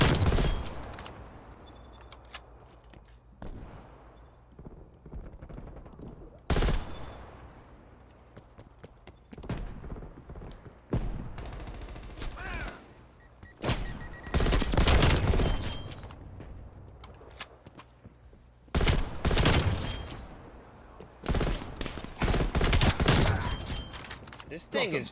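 Rapid bursts of M16 rifle fire from a Call of Duty: Black Ops Cold War Hardpoint match, loud and close, in repeated volleys separated by short pauses, with a voice talking over the game sounds.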